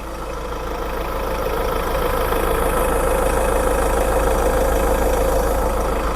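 A 2019 Mahindra Marazzo seven-seater idles with a steady, even engine hum and rumble throughout, close and fairly loud with no talking.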